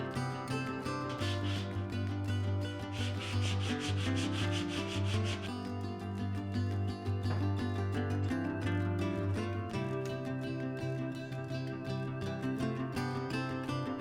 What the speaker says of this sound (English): So I'm gonna sand down the edges on this, glue it all up